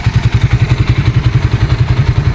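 A Suzuki Raider 150 Fi motorcycle idles close up, its engine thumping in a fast, steady, even beat with a low rumble and light mechanical clatter, loud and alone.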